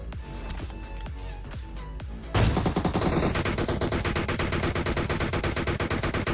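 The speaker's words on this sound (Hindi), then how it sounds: "यहाँ पे बंदा भैया लगातार डीपी की फायरिंग कर रहा था" In PUBG Mobile, a DP machine gun fires continuously after a few scattered single shots, a loud, rapid and even rattle of rounds that keeps going to the end.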